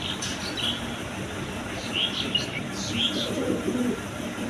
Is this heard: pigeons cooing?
yes